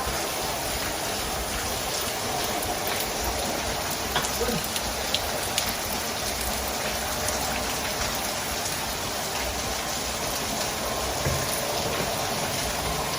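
Steady rain pours down on surfaces nearby, a dense continuous hiss of drops with occasional sharper patters, holding evenly throughout with no talk.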